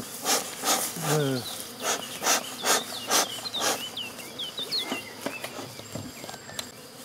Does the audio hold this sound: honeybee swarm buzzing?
yes